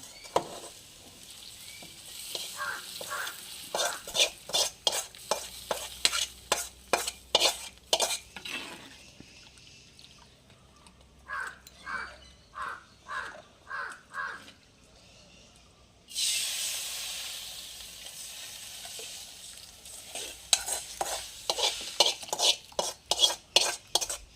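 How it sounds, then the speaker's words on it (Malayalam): A utensil scrapes and clinks rhythmically against a metal pan, stirring curry with tamarind water in steady strokes, with a brief sizzling hiss in the middle. "ഞാൻ ഏതാണ്ട് ഈ പുളി വെള്ളത്തിലോട്ട് അങ്ങോട്ട് ചേർക്കുകയാണ്"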